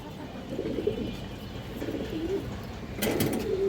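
Musoldom female pigeons cooing nearby in soft, repeated throaty phrases over a faint background hum, with a brief brighter flutter near the end and no talk.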